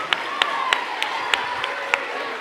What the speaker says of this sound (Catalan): Us demano un fort aplaudiment per tots ells i també per tots vosaltres.